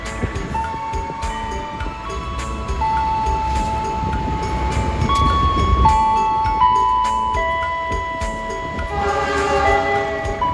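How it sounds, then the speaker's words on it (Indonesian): The Bangun Karta train to Jombang rumbles into Cirebon Prujakan station with metallic screeching and ringing tones, a horn-like tone sounding over the steady roll of the cars. "Kereta Bangun Karta tujuan Jombang masuk jalur 9 stasiun Cirebon Perujakan."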